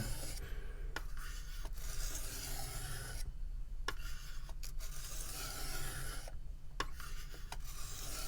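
A knife blade rasps back and forth on a guided sharpening system in steady, even strokes close up, with brief pauses between passes and no talking.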